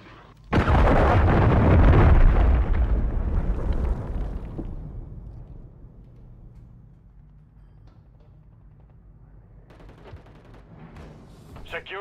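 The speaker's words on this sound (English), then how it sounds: "Hostiles launched the cruise missile." A cruise missile strike in Call of Duty: Modern Warfare 3 multiplayer lands as a sudden, loud explosion. A long rumbling roar follows and fades over several seconds, with gunfire and faint battlefield noise returning near the end.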